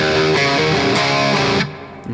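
A short distorted electric guitar riff in an odd time signature plays loud and alone, chords ringing out before cutting off and fading.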